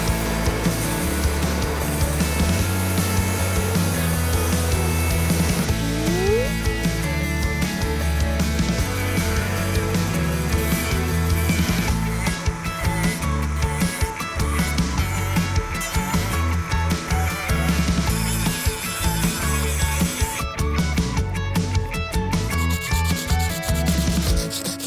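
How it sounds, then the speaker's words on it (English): A belt sander grinds the tip of a steel dagger modeled on Arya's from Game of Thrones into a sharper point. The abrasive rasp is loud, close and continuous, with shifting pressure and no voices throughout. "I'm going to use the belt sander to just kind of get a little bit more of a point on it"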